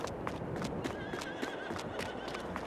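Horses in a farming video game whinny repeatedly, with a series of rising and falling neighs layered over soft clip-clop hoof taps and a low background murmur.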